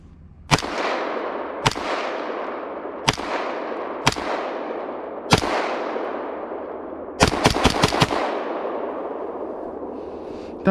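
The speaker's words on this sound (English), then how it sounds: "That was shooting some steel case ammo, 62 grain." A pre-Armalite Eagle Arms EA-15 rifle fires steel-case 62-grain ammunition: five loud, spaced single shots, each trailing off in a long echo, then a quick string of four or five rapid shots and one more crack at the end.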